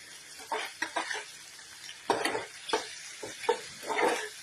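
Whole cumin seeds frying in a pan, heard as a soft sizzle broken by repeated stirring scrapes and bursts of crackle at an irregular pace, close by, with no talking.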